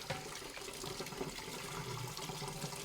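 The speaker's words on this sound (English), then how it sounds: "I'm going to rinse the top of it." A juicer lid is rinsed under running tap water, giving a soft, steady splash and trickle. It is quiet and continuous.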